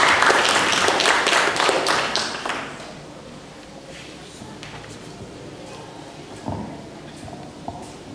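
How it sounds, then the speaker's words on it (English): A live audience at a career and entrepreneurial fair claps for a speaker being welcomed to the stage, a dense burst of applause that thins out after a few seconds and gives way to quiet room noise. "Can we just give a round of applause to Mr."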